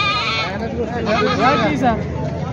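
Several goats bleat over one another amid a busy crowd at a livestock market, with people talking nearby.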